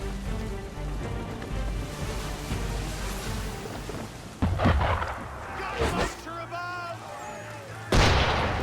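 Gunfire aimed at a boat in the video game Assassin's Creed III, heavy booming shots and rumbling blasts over dense background noise, with voices speaking between the bursts.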